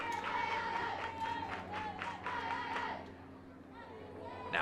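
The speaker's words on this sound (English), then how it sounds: "you're hearing this crowd going" A crowd at a college softball game cheers and claps in rhythmic bursts from a distance, with spectators chattering throughout and a voice calling out over it.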